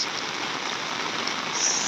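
Heavy rain pours down on a hilltop, a dense, even roar of falling water with no pauses.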